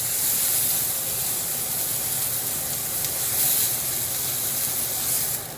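Beef brisket searing in a hot pan, its ends stood upright against the surface, gives a loud, steady, hissing sizzle that runs unbroken throughout with no voices.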